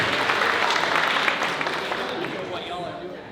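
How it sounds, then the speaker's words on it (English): Dense applause from an education conference audience, loud at first and slowly tapering off over a few seconds. "Everyone give a round of applause for table 12"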